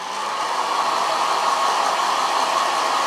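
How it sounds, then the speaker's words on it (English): A hair dryer blows hair dry during a clipper bob haircut, with a steady, loud, close whooshing roar that holds constant throughout with no talking. "And I'll start blow drying."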